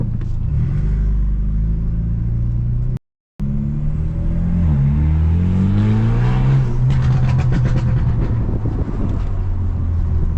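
Modified BMW F30 driven aggressively, its engine rumbling close and loud, revving up and down through the gears with a brief cut of silence, then rising and falling again.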